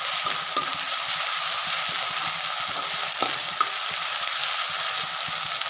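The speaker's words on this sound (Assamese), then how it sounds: "আমি ভালদৰে পেষ্টকেইটা একেলগতে লৰাই থাকিম মিডিয়াম ফ্লেমত" Ginger, dried chili and cumin paste fry on a medium flame, giving a steady, close sizzle with soft irregular stirring scrapes and the occasional clink throughout.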